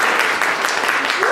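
Short burst of audience applause at a comedy magic show after a rope trick, a dense, even patter of clapping heard close and moderately loud.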